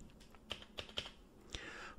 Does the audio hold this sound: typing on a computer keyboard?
yes